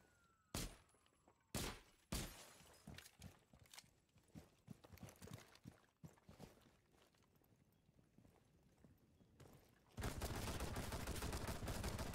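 Pistol gunfire in the Rainbow Six Siege video game: a few sharp separate shots near the start, then scattered quieter impacts and clatter, ending in a loud sustained burst of noise.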